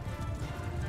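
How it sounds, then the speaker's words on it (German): Hoofbeats of a horse galloping in the video game Mount & Blade II Bannerlord, a steady low thudding clip-clop rhythm with no talk. "Da rennt ein Pferd weg"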